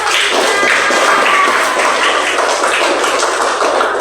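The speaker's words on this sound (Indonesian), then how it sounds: "Tepuk tangan dulu." Children in an Islamic religious education class in Sumenep clap their hands together, a dense, steady burst of close, loud clapping that fills the room with no talk over it.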